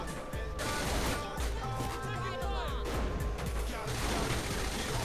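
Rapid gunfire in the game Saints Row: The Third, dense volleys of shots and crashing impacts running throughout, fairly quiet in the mix, with people talking over the shooting.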